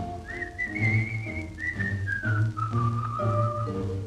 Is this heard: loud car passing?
no